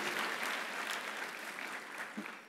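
Audience applause in a church or lecture hall, a steady patter of clapping throughout, moderately faint and fairly distant, with no voices over it.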